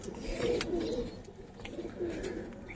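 Cooing from a big-size pigeon pair, low soft murmuring calls repeating in a couple of bursts, near and fairly clear, with no talk over them.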